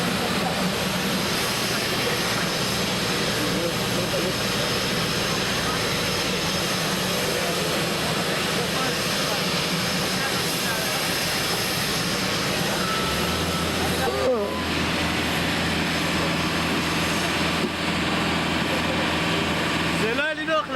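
A large airplane's engines roar continuously and loudly, a broad steady rumble with a shift in pitch partway through, while people talk over it.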